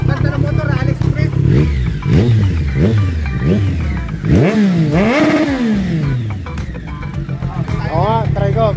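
Motorcycle engines rev repeatedly in rising and falling sweeps, loud and close, one long climbing rev standing out midway, with people talking over the noise during an anniversary ride gathering of the MBC club.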